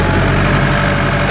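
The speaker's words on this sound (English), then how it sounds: "I'd forgotten what it's like to drive a two-wheel drive tractor on a wet ground." A two-wheel drive tractor engine labors on wet ground, a loud, continuous low rumbling drone with steady vibration and no pauses.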